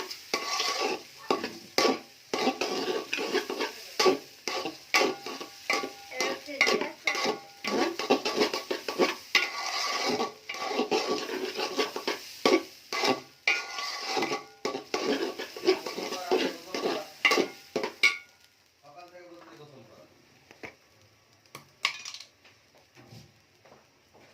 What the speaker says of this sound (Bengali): এই যে পোলাও চালটা ভেজে নিচ্ছি